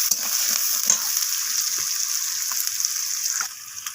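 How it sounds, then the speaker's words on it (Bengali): Sliced onions fry in hot oil in a pan, a continuous bright crackling sizzle up close with occasional scraping clicks of stirring, no talking. "পেঁয়াজটাকে আমি হালকা লালচে করে ভেজে নেব"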